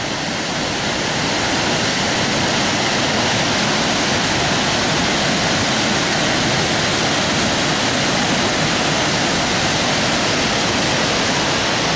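The fast-flowing River Braan rushes through a rocky gorge in a dense, loud, unbroken roar of white water that holds constant throughout.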